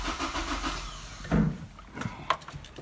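Honda S2000 engine being cranked by the starter during a compression test, with the engine hot, a brief rhythmic churning burst in the middle amid scattered clicks and faint background noise.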